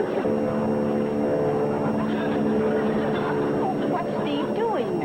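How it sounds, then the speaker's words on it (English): A propeller plane drones steadily overhead in an old country comedy scene, a continuous engine hum with shifting pitch while people talk over it. "That sounds like my plane."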